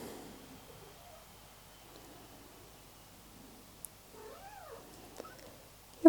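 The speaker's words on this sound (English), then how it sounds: "You probably can hear in the background my cat" A pet cat gives a single drawn-out meow in the background of a quiet indoor room, faint under a steady low hum, followed by a couple of soft clicks and a sharp thump at the very end.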